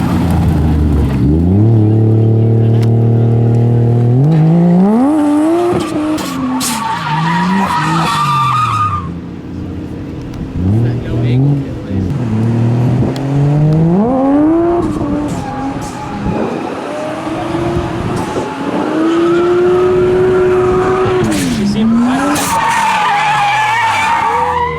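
A car with a swapped 1JZ engine drifts, its tires skidding and squealing loudly in long sweeping wails as the engine revs rise and fall.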